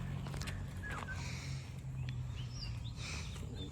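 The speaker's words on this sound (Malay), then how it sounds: "Bunyi burung lah. Burung apa? Burung murai." Faint magpie robin calls, a few short whistled chirps and trills, drift over a low steady background hum, with occasional soft taps.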